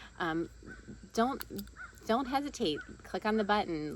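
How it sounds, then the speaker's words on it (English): Crows cawing outside, a few short harsh calls in the background while a person talks steadily over them in the foreground. "I can hear the birds outside here."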